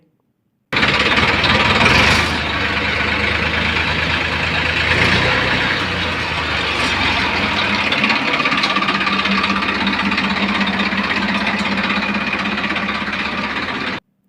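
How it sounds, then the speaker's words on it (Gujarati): A 2012 Sonalika DI 740 tractor engine idles loudly and steadily nearby, a rough continuous diesel rumble with a brief louder rev near the start. "સોનાલિકા ડીએ સાતસો ચાલીસ ટ્રેક્ટર વિડીયોમાં તમે જોવો છો"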